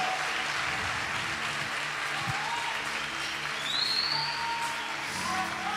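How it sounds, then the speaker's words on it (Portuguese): A church congregation gives sustained applause, a dense continuous roar of many hands clapping throughout, with faint voices and a sung or spoken tone rising in the background. "Queria que você aplaudisse ao Senhor por esses homens"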